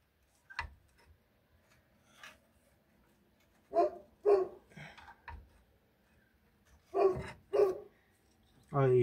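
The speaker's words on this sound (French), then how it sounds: "il est pénible ce chien quand même" Several sharp dog barks ring out around a car workshop where a Citroën BX TRD Turbo is being checked for an ABS fault, arriving singly and in close pairs at moderate distance with quiet gaps between them.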